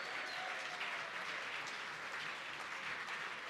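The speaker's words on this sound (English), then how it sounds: "Can we get a round of applause for all our sponsors this evening" At an evening whisky awards ceremony in Scotland, the audience gives a steady round of applause, a continuous, fairly distant wash of many hands clapping with no speech over it.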